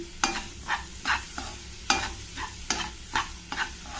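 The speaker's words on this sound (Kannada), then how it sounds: "ಸುಮ್ಮನೆ ಆ ಪಾತ್ರೆ ಬಿಸಿಯಲ್ಲಿ ಇದನ್ನೊಂದು ಸಲ ಮಿಕ್ಸ್ ಮಾಡ್ಕೊಳ್ತೀನಿ" Ridge gourd tovve with grated coconut being stirred in a hot pan with the stove off, giving repeated scraping strokes roughly every half second, close and clear with no talk.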